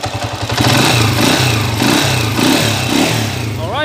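A motorcycle engine running steadily after sitting in long storage, with a loud, close, rhythmic chugging idle and light clatter throughout.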